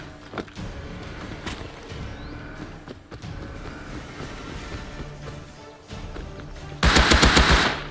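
Gunfire in the Rust video game, a burst of rapid automatic shots near the end standing out loud over a busy background of game noise and scattered earlier pops.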